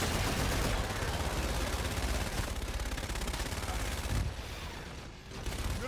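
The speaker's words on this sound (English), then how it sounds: "inbound for gun run" Dense, continuous strafing fire from an aircraft gun run in Call of Duty Infinite Warfare roars loud and unbroken, easing briefly near the end before resuming.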